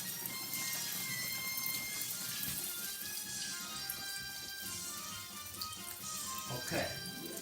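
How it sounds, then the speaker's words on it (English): Tap water runs steadily into a kitchen sink as hands are rinsed during a cooking session, a soft, continuous splash sitting under people talking nearby. "let me wash my hand"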